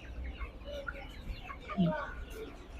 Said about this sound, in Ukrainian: Подивіться, які два місяці курочки.